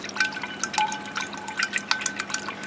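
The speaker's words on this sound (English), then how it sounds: "Why do I give it a good shake?" A pH meter probe shaken in a container of RO water, giving a rapid run of close, light splashing and dripping sounds throughout, with no voices.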